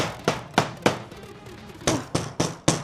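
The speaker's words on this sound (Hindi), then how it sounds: "सारी कीलें बराबर तरीके से ठोक दी हैं।" Hammer blows drive nails into a wooden coffin in a vampire video game, sharp loud knocks coming in two irregular bursts, three strikes and then four, with short pauses between.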